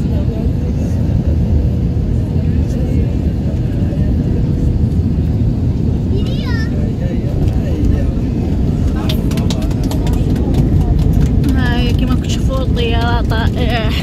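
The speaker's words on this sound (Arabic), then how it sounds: "هاي نشوفوا الطيارة هودت، هاي غادي تحط" Passenger airliner landing on a flight from Istanbul to Brussels, heard from inside the cabin as a loud, constant engine and airflow roar with rumbling touchdown, while voices talk over it.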